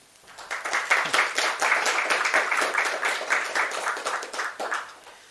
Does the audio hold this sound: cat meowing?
no